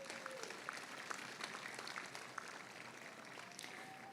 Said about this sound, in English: Give them one huge round of applause.